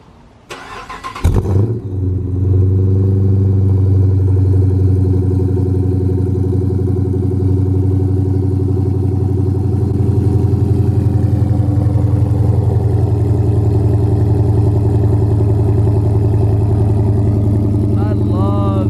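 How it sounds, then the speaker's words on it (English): A car fitted with a ported 6.1 SRT intake manifold cold-starts with a sharp crank and catch, then settles into a loud, steady, rumbling idle that carries on close by. "let's go ahead and give it a cold start"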